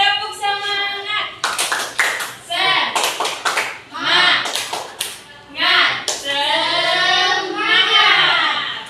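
A Year 4 primary school class in Indonesia performs a rhythmic spirit clap, sharp bursts of hand claps in patterned groups alternating with a teacher and children chanting along.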